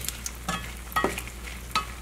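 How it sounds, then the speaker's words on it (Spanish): Chiles dropped into hot oil for pollo a la diabla, giving a soft, steady sizzle close by, with a few brief stirring scrapes and clinks and no speech. "Una vez que el aceite ya calentó, vamos a agregar los chiles"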